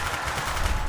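A short, loud burst of rapid gunfire while shooting zombies in Black Ops Zombies, close and continuous for under a second.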